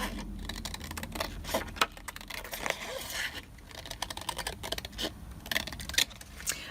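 Scissors cut paper for a handmade antique-style journal, producing a busy run of short crisp snips and rustles, close and fairly quiet, with no talking.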